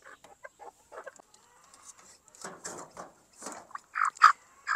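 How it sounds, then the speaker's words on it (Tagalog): Upgraded native chickens, a Filipino farm flock of mixed bloodline, cluck in a run of short, soft calls that start sparse and build to louder, closer clucks near the end. "Ibang sample ng ating mga upgraded native chickens."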